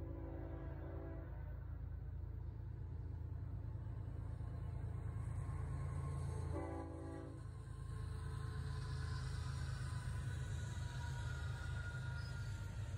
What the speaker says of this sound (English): This mixed manifest train is carrying many types of products.